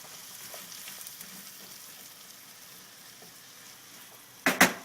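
Acorn squash cooking in butter in a pan, a faint steady sizzle that ends in a short, loud clatter of stirring.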